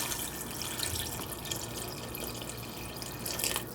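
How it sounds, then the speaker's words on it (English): Water pours into a pot of broccoli soup, a steady close splashing and trickling with dripping over the whole stretch, no voices. "I'm just going to put in some water just until the broccoli is covered"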